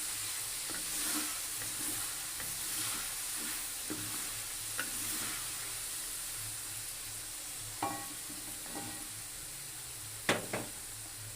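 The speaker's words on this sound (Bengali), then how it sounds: "এখন এটা ভালো করে ভাজবো" Low, steady sizzling of chicken frying in a large wok, with intermittent metallic scrapes and clinks of a utensil stirring in the pan.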